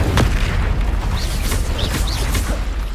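The Incendio fire spell strikes in the Hogwarts Legacy video game, a loud, dense rush of roaring fiery noise and rumble with a few brief swooping chirps on top, sustained for about three seconds.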